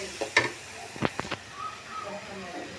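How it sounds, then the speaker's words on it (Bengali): Spice paste fries for a sea fish curry, giving a low sizzle broken by a few quick spoon taps and scrapes against the pan, with faint voices in the background. "এদিকে সামুদ্রিক মাছ রান্না করতেছি, মশলা কষিয়ে নিচ্ছি"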